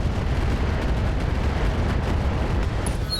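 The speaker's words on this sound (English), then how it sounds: "LRM ammo explosion, that longbow's gone" LRM ammo explosion destroying a Longbow mech in RogueTech, the BattleTech mod: a loud, sustained rumbling blast with crackling bursts layered throughout, no voices.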